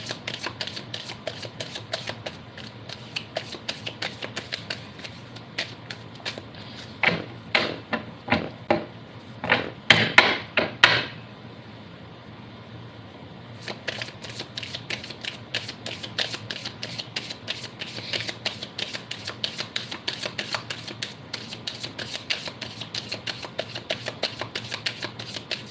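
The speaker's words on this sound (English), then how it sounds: "so 2 more shuffles." A deck of tarot cards is shuffled in repeated bursts, quick riffling clicks and soft flutters close by, with a denser flurry of sharp snaps near the middle, then a brief pause before the rhythmic shuffling resumes.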